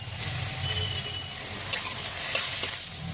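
Onions fry in oil as two spoons of ginger-garlic paste are added for a mutton curry, making a continuous close sizzle with occasional spatula scrapes and clinks, without speech.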